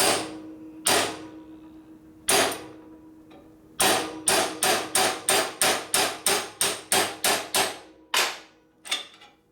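Bearing races being hammered into a 1972 Harley-Davidson Sportster 1000cc Ironhead during a street tracker rebuild: a loud, close series of sharp metallic strikes, a few spaced blows then a quick run of about a dozen evenly paced hits.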